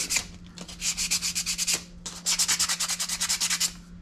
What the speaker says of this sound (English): Just real quick sand, nothing major.